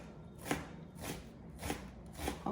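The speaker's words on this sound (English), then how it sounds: "So I'm gonna cut my onion up" A knife chops an onion on a cutting board for stuffed bell peppers, four or five evenly spaced, fairly quiet thuds about half a second apart.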